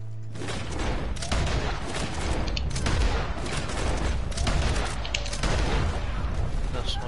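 Repeated loud gunshots crack through a Red Dead Redemption 2 Online shootout, with close, irregular bursts and a few heavier booms across the span.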